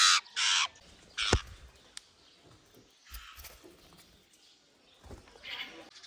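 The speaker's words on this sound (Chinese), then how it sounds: "隔壁的小八哥过来给它吓到了，" A myna bird gives a few loud, harsh squawking calls in short bursts near the start, followed by quieter scattered chirps, rustles and low background noise.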